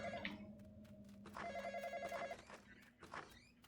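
A mobile phone rings in the horror video game The Graveyard, a close, repeating electronic trill over game ambience with footstep-like thuds.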